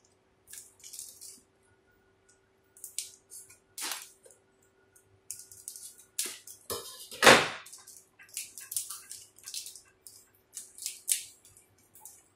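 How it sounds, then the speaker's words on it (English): Scissors snipping shrink tube on a fiber optic cable, a series of sparse, close, crisp cutting clicks with quiet pauses between them. "Then we need to cut the shrink tube."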